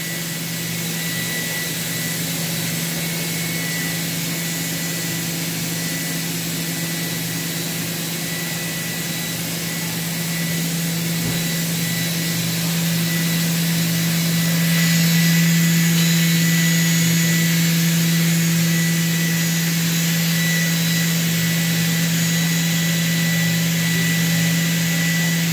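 OKK KCV 600 machining center spindle spinning at high speed, around 10,000 RPM, a steady, fairly quiet whine with a constant electric hum, unchanging throughout with no talk.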